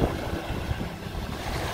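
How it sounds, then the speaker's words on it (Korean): Calm sea waves at Wonsando beach, a soft continuous wash of surf with light wind buffeting the microphone, no voices. "파도가 더 잔잔하고"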